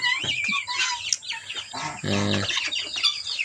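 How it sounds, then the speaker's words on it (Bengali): Guinea fowl and chickens on a farm, kept behind a net divider, cluck and call in a busy overlapping chorus, with a louder burst of harsh repeated calls partway through. "এখানে দেখতে পাচ্ছেন আমাদের তিতির মুরগি আছে"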